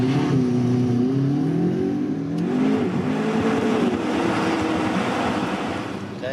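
A McLaren supercar engine revs loudly on a runway, its pitch climbing and wavering as the throttle rises and eases, with a steady roar throughout and no talking.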